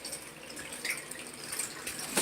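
Water drains from a bathtub with a soft, steady trickling and light gurgling, faint and continuous without any talk.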